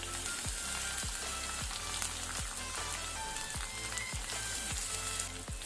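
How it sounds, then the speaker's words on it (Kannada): Finely chopped onion fries over medium flame in oil with garlic and cumin for an egg spinach gravy. The sizzle is a loud, dense, continuous crackle, and regular rhythmic thumps run through it. "ಈಗ ಈರುಳ್ಳಿ ಒಳ್ಳೆ ಕಲರ್ ಬರೋ ತನಕ ನಾವು ಮೀಡಿಯಂ ಫ್ಲೇಮಲ್ಲಿ ಫ್ರೈ ಮಾಡ್ಕೊಳ್ಳೋಣ"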